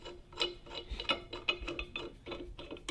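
A clutch puller is screwed into the clutch of a 100cc VLR, giving a series of close, light metallic clicks and scrapes in an uneven rhythm.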